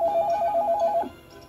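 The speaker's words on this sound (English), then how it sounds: "Oh, a phone call." A Tiger 2XL toy robot sounds an electronic telephone ring, a rapid warbling trill of even pulses lasting about a second before it cuts off, loud and close with nothing else heard.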